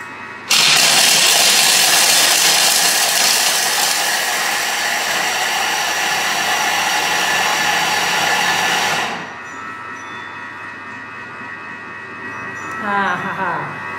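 A Thermomix blends chocolate at speed 8: a loud, steady, high whirring roar runs for about eight and a half seconds, then cuts off abruptly, leaving quieter room sound with a brief clatter near the end.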